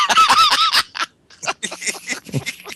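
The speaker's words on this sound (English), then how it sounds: "There's a whole bunch of birds fighting outside my windows." A flock of birds fights outside a window, giving a loud burst of harsh, honking calls at the start, then scattered shorter squawks mixed with nearby voices.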